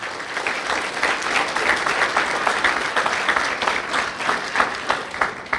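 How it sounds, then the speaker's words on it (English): A graduation ceremony crowd at a high school commencement gives a steady round of applause, dense overlapping claps running evenly throughout with no talk over them. "Let's give another round of applause to the special student."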